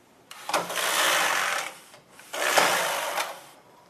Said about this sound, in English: I'll go across and back with the carriages